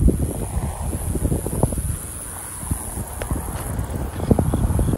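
Horses clip-clop nearby in irregular hoof thuds, with gusts of wind buffeting the microphone outdoors.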